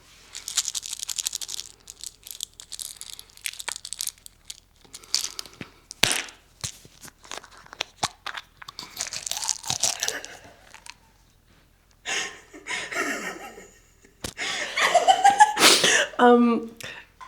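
A Vyvanse capsule is handled and crunched up close, with bursts of crinkling, tearing and crushing noises broken by pauses, while people talk and laugh in between.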